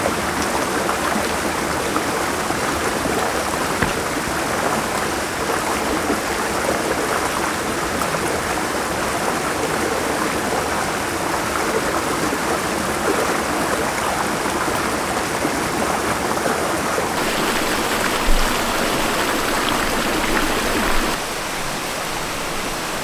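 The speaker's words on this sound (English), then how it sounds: "And that little river's just right down there." Small river flowing in the 100-Mile Wilderness on the Appalachian Trail, a loud, steady rushing of water that fills the whole scene without pause.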